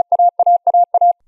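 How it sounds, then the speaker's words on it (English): Morse code letter A (alpha) sent at 35 words per minute: a clear, steady tone plays a short dot followed by a longer dash, and this crisp pattern repeats four times in quick succession. "That's the sound of alpha at 35 words per minute."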